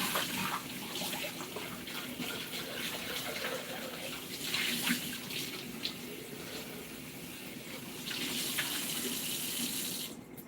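Tap water runs steadily into a kitchen sink as utensils are rinsed, a continuous close hiss and splash with small clatters, swelling louder near the end.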